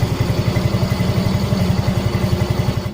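A Yamaha Mio M3 scooter idles close by after a tune-up, its small engine putting out a steady, even low putter with a regular pulsing beat and no talk.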